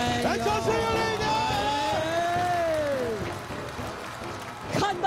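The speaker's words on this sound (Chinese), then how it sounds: "来，掌声热烈一点！" Steady applause and crowd noise fill a rural television variety show stage, running beneath a man's loud, excited voice and easing slightly toward the end.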